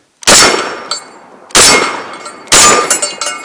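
Three loud shotgun blasts from a Panzer BP-12 Gen2 at an outdoor range, each followed by the metallic clang of a steel target ringing out briefly.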